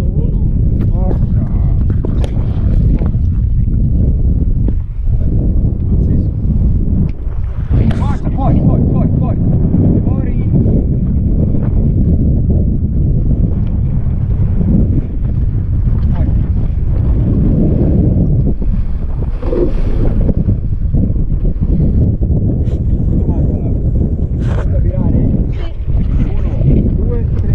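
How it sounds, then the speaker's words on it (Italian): Wind blowing steadily across a microphone on a small racing sailboat, a constant loud rumble with water and hull noise throughout, while crew members talk and call out instructions over it. "non senti il vento, sta arrivando qua"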